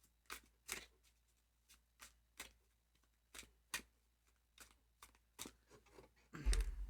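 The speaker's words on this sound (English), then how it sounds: "This is how you shuffle tarot cards, by the way." Tarot cards being shuffled by hand, a steady run of about a dozen crisp riffling snaps and soft slaps, close and quiet, ending in a louder rustle.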